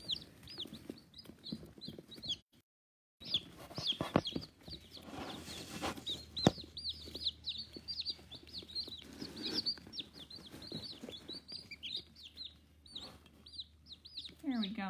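Newly hatched baby chicks gathered near their feed keep up a constant chorus of high, rapid peeping, with occasional low clucks and shuffling close by; a short silent gap breaks the sound early on.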